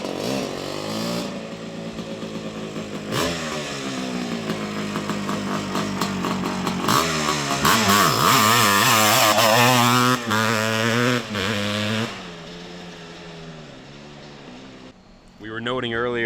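A 1978 Honda CR250 Elsinore two-stroke engine with a factory pipe revs hard and rises to a buzzy high-pitched wail, then drops back to idle and cuts off, close and loud.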